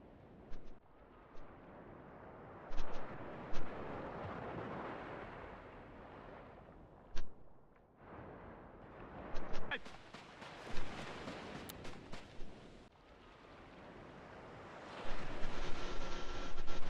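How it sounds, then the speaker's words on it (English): Engine drone from a German bomber in the War Thunder flight game, a steady broadband roar with scattered sharp bangs like gunfire or flak, and louder bursts toward the end. "yes, I am flying a bomber in War Thunder. German bomber, to be precise."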